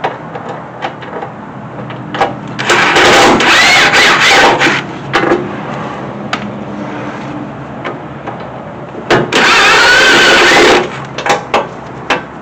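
A power tool whirs in two loud bursts of a few seconds each, removing the top bolts from a Mustang's fender well. Scattered clanks and handling knocks fill the gaps between them.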